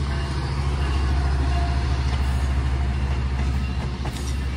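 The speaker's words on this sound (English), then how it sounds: "we're rail fanning at Fullerton and we got a Metro Link, guys" A Metrolink commuter train runs past at Fullerton station, a loud continuous rumble of rolling wheels and a heavy low drone that stay steady and close for the whole stretch.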